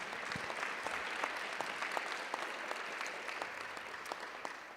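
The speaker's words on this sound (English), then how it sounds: "can we please just give a round of applause to ASU?" An audience applauds at a legal organisation's launch event panel, a dense, even wash of many hands clapping that stays fairly faint and distant and slowly tapers toward the end.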